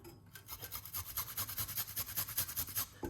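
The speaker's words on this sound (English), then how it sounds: "grate it with the skin. You can see that's the real Jamaican ginger. You grate it." Fresh Jamaican ginger, skin still on, rasped against a grater in a quick, steady back-and-forth rhythm, close and fairly quiet, with no voices.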